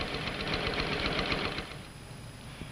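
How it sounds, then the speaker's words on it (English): A sewing machine stitching the center seam of a skirt front from bottom to top, a fast even mechanical chatter up close that fades and slows toward the end. "Janice just pinned the center seam of the skirt front and now stitches it from the bottom to the top"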